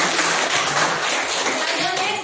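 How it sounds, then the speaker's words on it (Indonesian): A class of students applauds in a classroom with loud, dense, continuous clapping that runs unbroken, while children's voices mix in underneath. "Kasih tepuk tangan."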